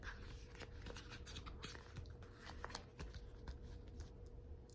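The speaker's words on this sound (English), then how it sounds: "And they just slide closed, just like a Ziploc bag" A plastic zip cash envelope from an A6 budget binder is slid shut like a Ziploc bag, giving a soft, close, rapid ticking and rustling as the slider runs along the track.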